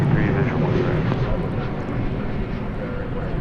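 An American Airlines Boeing 737-800 at DFW Airport roars with a broad, steady jet engine rumble, loud and sustained, while a voice talks over it.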